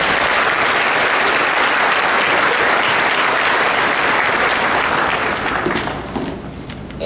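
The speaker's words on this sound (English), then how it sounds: "you gave them a round of applause" A large graduation ceremony audience applauds loudly and continuously, a dense, even wash of many hands clapping that thins and fades toward the end.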